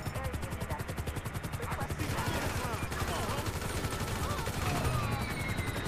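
Rapid automatic gunfire in GTA V, fast and continuous, loud and close, with a voice partly heard through the shooting.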